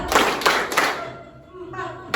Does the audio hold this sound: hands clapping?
yes